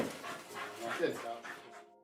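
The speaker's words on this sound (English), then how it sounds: "He's such a good little dog." A small male dog pants and lets out soft whimpers close by, a continuous breathy rhythm with brief whines, while a person speaks warmly over it.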